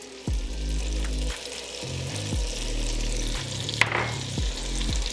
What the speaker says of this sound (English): you just want to move it around, get everything coated, and you want to put some heat into your potatoes